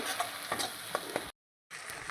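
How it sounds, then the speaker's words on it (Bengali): Spice paste frying and being stirred in a pan for a Bengali vegetarian banana flower ghonto, steady close sizzling with periodic scraping stir strokes, then a brief silent gap before the sizzle resumes. "এবার নাড়িয়ে চাড়িয়ে একটু ভেজে নেব 2 মিনিট মতো।"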